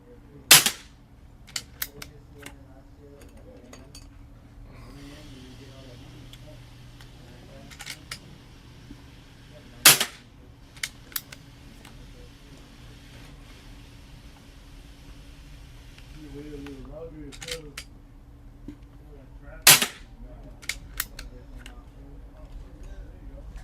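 An Umarex Zelos .25 air rifle fitted with a moderator fires three sharp, muffled cracks spaced about ten seconds apart, each followed by faint clicks of the action, with a quiet steady background hum.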